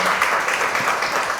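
Dense audience applause fills a short stretch, steady and fairly loud, with a faint cheer or voice mixed into the clapping crowd at a Korean charity talk event.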